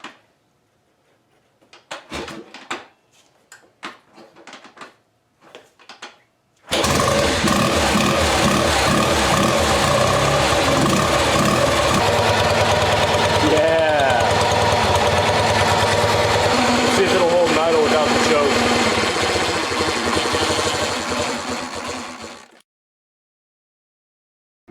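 A BMW R90/6 motorcycle engine, dormant for years, turns over with a few short cranking bursts, then catches and runs loudly and continuously up close for about sixteen seconds before cutting off abruptly.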